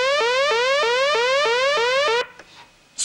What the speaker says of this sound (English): or sawtooth waves